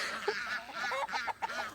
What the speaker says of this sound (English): the ducks just come running when once I step outside